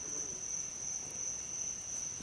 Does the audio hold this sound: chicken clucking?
no